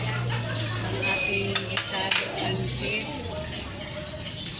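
Cutlery and dishes clink and scrape at a dinner table during a sinigang meal, with voices talking over the clatter.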